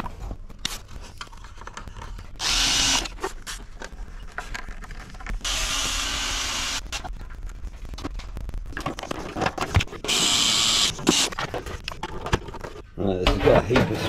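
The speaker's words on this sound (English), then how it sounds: "what I'm gonna do is gonna put some screws along here" Power drill driving screws into an Austin Ten Special car body panel, several bursts of high whining drill runs with scraping and handling noises in between, close and fairly loud.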